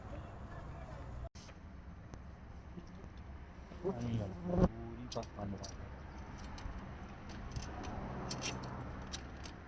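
Flies buzz close by during a roadside stop on a long bicycle journey, a steady insect drone with brief louder passes and clicks, while people talk nearby.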